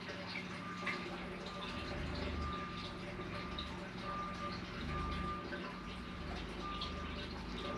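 A truck's reversing alarm beeps in a regular repeating pattern, moderately distant, over a busy background of traffic and running liquid in a city setting, with faint voices around.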